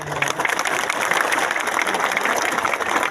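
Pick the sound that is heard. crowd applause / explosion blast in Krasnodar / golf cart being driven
crowd applause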